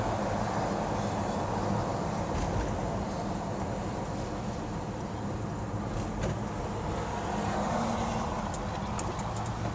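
A 1967 Pontiac GTO, a restored classic muscle car, drives along and accelerates, its engine giving a steady, loud, continuous rumble with a broadband road and wind roar throughout.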